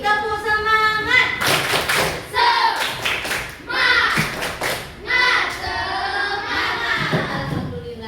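Schoolchildren in an Indonesian classroom chant together while clapping a loud, rhythmic spirit-clap pattern, with the claps and thumps landing in quick patterned groups under their voices.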